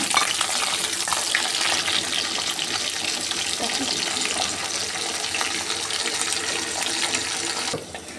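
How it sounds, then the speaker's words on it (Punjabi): Capsicum fries in hot oil with cumin in a pan, giving a loud, continuous crackling sizzle that holds steady and eases slightly near the end; no talking. "ਹੁਣ ਆਪਾਂ ਨੇ ਮਿਰਚ ਭੁੰਨਣੀ"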